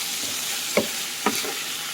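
Chopped liver frying with onion and spices in a pan, holding a steady close sizzle broken by two distinct scraping strokes of a spoon as it is turned over.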